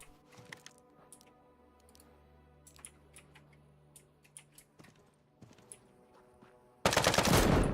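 Scattered clicks and small crackling reports lead up to a sudden, loud, dense burst of turret gunfire from an automated turret in the Deadside survival shooter, close and sustained to the end.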